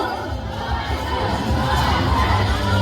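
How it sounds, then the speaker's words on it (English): A crowd of children shouts and cheers at a bird show at Ocean Park Cebu, a loud, continuous mass of young voices that swells slightly toward the end. "Come on girls, let me hear you cheer."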